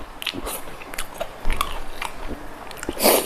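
Crispy fried chicken with fish sauce is bitten and crunched close up, giving sharp irregular crackling crunches and chewing, with a louder crunch near the end.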